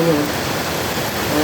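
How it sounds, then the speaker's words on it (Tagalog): Steady rain falls continuously on a wet day near a river, a dense even hiss with no break, while a person talks faintly underneath. "Mas lalo ng ganitong tuloy-tuloy ang ulan."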